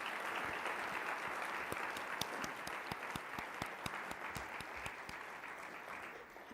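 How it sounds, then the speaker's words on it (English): A large audience claps heartily at a library event on women's pro soccer in Columbus, with dense, steady applause that holds throughout and sharp individual claps standing out near and far. "Let's give all of them a round of applause"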